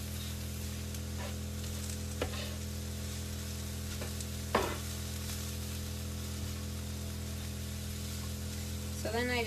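Vegetables sizzle and fry in a pan at a campsite, a steady soft hiss with occasional clinks of a utensil stirring.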